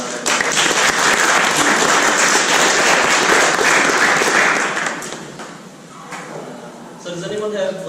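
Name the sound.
audience applause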